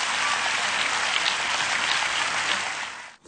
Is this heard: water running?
no